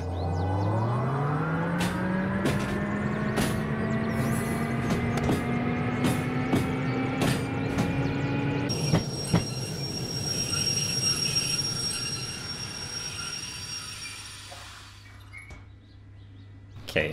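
A small shunter locomotive in the Derail Valley railway simulator rolls into the engine shed, its motor whine rising in pitch and holding steady, then cutting to clanking rail and wheel noise with faint squeals that fade toward the end.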